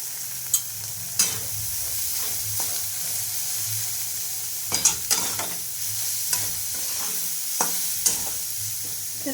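Paneer bhurji frying in a pan, a continuous soft sizzle broken by repeated close scrapes and taps of a spatula stirring, irregular in rhythm, with no one speaking.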